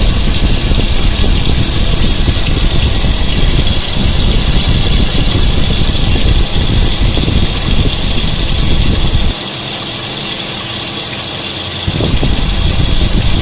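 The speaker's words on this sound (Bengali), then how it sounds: "আমরা এখন মাছটা লাল লাল করে ভেজে নিচ্ছি।" Tilapia fish frying in oil in a covered pan on high heat, a loud steady sizzle and roar that holds almost throughout, with one brief dip in the middle.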